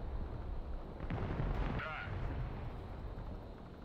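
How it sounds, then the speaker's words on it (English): Grad rocket artillery fire in the Broken Arrow video game: a heavy rumbling roar with muffled booms and whooshes, sustained and dense, with a voice talking over it. "Incoming grad fire."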